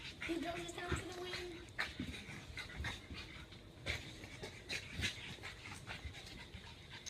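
Dogs play-fighting, with quick close panting and short snorts and scuffles in an irregular rhythm, while a person talks over the rough play.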